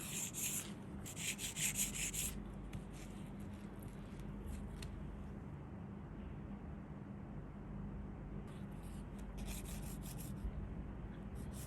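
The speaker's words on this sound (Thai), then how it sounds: "ตะไบมันจะเอียงลักษณะเนี้ยพอเอียงเนี่ย มันจะเอียงแบบเนี้ย จะตะไบโคน" An acrylic nail, long and pointed, is filed with a nail file, giving steady close rubbing and scraping strokes that run almost throughout, loudest in short bursts near the start and near the end.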